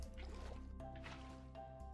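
Water being placed in Minecraft, soft squishy liquid splashes and drips repeating in short bursts, faint and close, with a steady low hum underneath.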